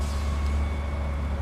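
Truck air brakes in the video game Big Ambitions give a steady, loud hiss of released air over a low engine rumble, continuous for the whole moment with no talking.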